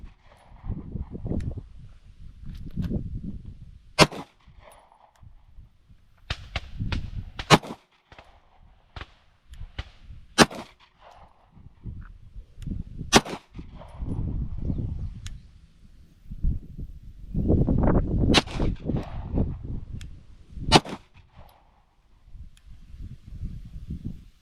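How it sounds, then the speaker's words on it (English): Ten pistol shots from a Masada Slim Elite crack sharply outdoors at a 25-yard range, spaced irregularly a few seconds apart, with low handling noise and background rumble between them. "I want to shoot 10 shots with it"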